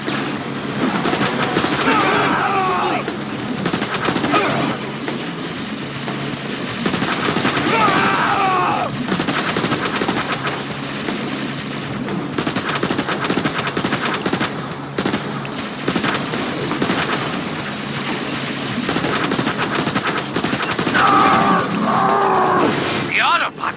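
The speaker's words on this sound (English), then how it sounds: "They're firing from the windows!" Gunfire in the video game Transformers War for Cybertron, enemies shooting from windows: loud, dense bursts of rapid weapon fire and blasts throughout, mixed with game voices and effects.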